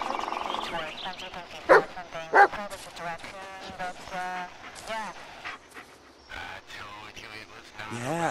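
A dog barks a couple of times in the Blair Witch video game, two sharp loud yelps standing out over someone talking and background game sounds.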